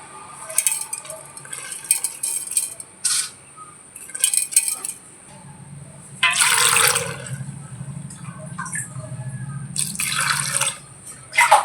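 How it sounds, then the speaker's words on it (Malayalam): Water is poured into a cooking pot in a home kitchen while jackfruit and fish are being prepared, giving splashy bursts and a steady trickling pour that runs for several seconds, with no voices. "കുറച്ച് വെള്ളം ഒഴിച്ചു കൊടുക്കുക."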